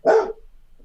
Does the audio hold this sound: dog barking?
yes